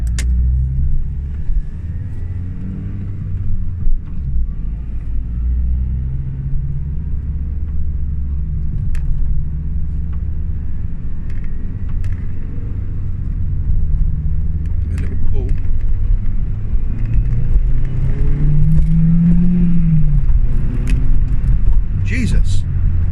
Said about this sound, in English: So we're just going to go for a ride up the road.